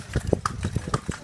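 A small horse pulls a carriage along a rural jungle road outside Ho Chi Minh City, its hooves clip-clopping in a steady, close, even rhythm with no talk.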